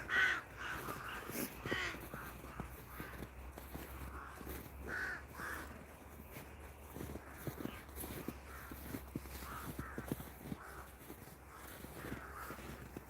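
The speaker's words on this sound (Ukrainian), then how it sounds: "Що вони там собі знайшли? Каркають." A flock of crows caws repeatedly outdoors, the calls scattered and overlapping at moderate distance over a low background rumble.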